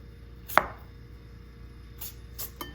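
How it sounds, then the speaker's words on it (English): A knife slices through a sour mango on a board, one sharp close cut followed by a few quieter slicing taps against a hushed background. "I'm gonna slice me a few slices"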